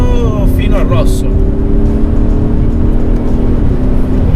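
Diesel V8 of an Audi SQ7 ABT, a tuned SUV, droning steadily and loud from the cabin as it pulls through the revs, with a rising hum throughout and voices talking over it.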